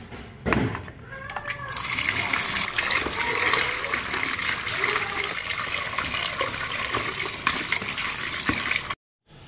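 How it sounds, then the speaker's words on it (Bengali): Tap water runs steadily while raw chicken is rinsed clean in a home kitchen, a continuous splashing flow lasting several seconds before cutting off abruptly. "চিকেনটা আমি ধুয়ে পরিষ্কার করে নেব"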